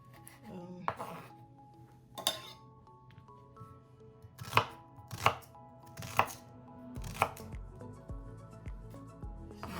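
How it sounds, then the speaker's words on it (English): A knife chops an onion on a board in sharp, separate strikes, spaced irregularly, close by, with quiet background hum between cuts. "chopping my vegetable for my corned beef pasta"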